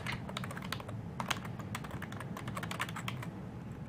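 Fingers typing a command on a computer keyboard at a command line, a quick run of soft, close key clicks at an uneven rhythm, alone and fairly quiet.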